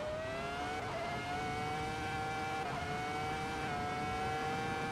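A race car engine in a Le Mans racing video game holds a loud, sustained high whine with small pitch dips and rises through gear changes, a continuous mechanical drone with no talking.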